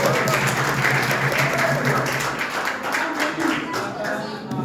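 A group in a hall or classroom quiz gathering claps in a brisk, sustained round of applause that fades slightly toward the end.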